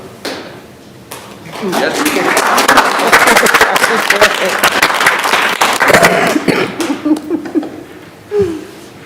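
Students at a school board meeting burst into loud, sustained clapping and cheering with excited shouts and laughter for several seconds, fading out as a voice speaks near the end.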